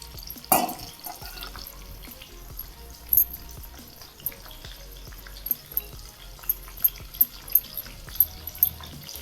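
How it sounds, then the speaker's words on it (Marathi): Stuffed bitter gourd (karela) shallow-frying in plenty of oil over a low flame, with a soft, continuous crackle and scattered sharp pops and spits, one louder burst early on, close and without talk. "हे तेलावरच नुसतं परतून घेणार आहे मी तेल भरपूर वापरलेला आहे"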